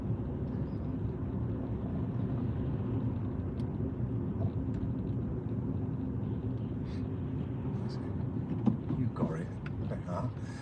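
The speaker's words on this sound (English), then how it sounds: "because you left it in third gear to go over the speed bumps, when you try to get going, you can feel the car vibrating" A car engine runs rough after pulling away in third gear on a driving lesson, giving a steady, heavy low rumble that fills the whole stretch with no clear break.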